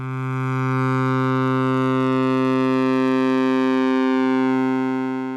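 A Eurorack modular synth feedback patch at full saturation drones as a steady, loud, harmonically rich tone, holding nearly unchanged for several seconds with a brief dip near the end.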